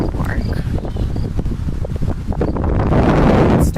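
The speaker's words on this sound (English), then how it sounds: "Starting to get really windy" Strong wind buffets the microphone at an outdoor park, a loud continuous rumbling roar that swells toward the end, with a voice speaking faintly beneath it.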